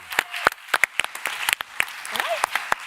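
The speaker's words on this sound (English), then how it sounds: "Please have a round of applause for all the panelists." A conference audience at a summit claps for the panelists at the end of a panel session, with a sparse round of individual hand claps from a small room that carries on steadily, close and moderately loud, with a brief vocal sound in the middle.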